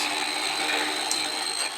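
A small, inexpensive blender blitzes kimchi butter with a steady, loud, dense whir that runs unbroken from start to finish with no voices.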